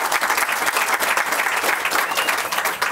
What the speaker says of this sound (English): So round of applause for that team.